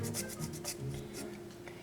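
Lime zest scraped over a small handheld mini grater in a home kitchen, a series of quick rhythmic rasping strokes, close and soft.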